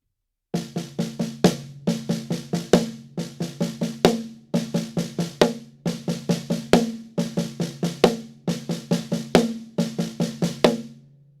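Drum set played in a five-stroke accented pattern with loud rim shots, sounding as repeated quick groups of strokes that each end on a crack, steady and close with no voices.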